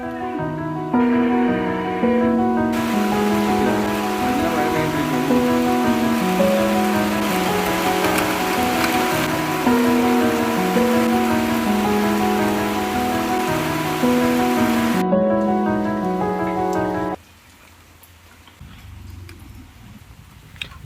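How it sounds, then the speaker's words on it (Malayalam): Heavy rain pours steadily onto water tanks and their covers at an outdoor fish-keeping setup, a dense continuous hiss with ticking drops throughout, then easing abruptly near the end to a much quieter patter. "നല്ല മഴ വരുന്നുണ്ട്."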